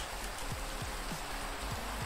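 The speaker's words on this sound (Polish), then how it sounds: "No, deszcz." Steady rain falls in the Minecraft video game, a dense even hiss with faint low patters running continuously and alone throughout.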